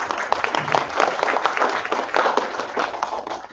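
An audience claps steadily for panelists being introduced at a panel forum, a dense, continuous patter of many hands at moderate volume throughout.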